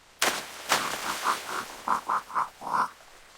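A series of short croaking calls from frogs at a forest pond, about nine bursts in an uneven rhythm, close and moderately loud, with no voices present.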